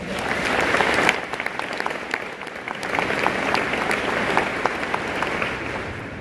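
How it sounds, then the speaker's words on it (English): Sustained applause from a conference audience welcoming speakers and exhibitors, a dense, steady wash of many hands clapping that swells briefly near the start and continues evenly throughout. "Please give them a round of applause."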